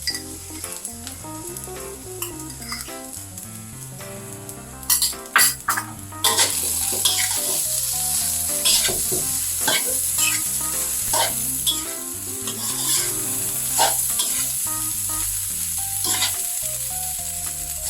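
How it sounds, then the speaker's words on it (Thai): Shrimp fried rice stir-fried in a hot wok sizzles continuously while a spatula scrapes and clanks against the metal in quick irregular strokes, loud and close with no talking. "เราต้องผัดต่อไปให้ข้าวร่วนซุย"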